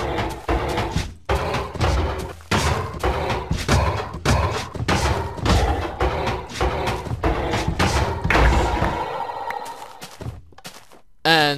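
Repeated heavy thumping blows land on an iron golem in Minecraft, a rapid series of loud thuds and slams in steady rhythm, with a short pause and a final hit near the end.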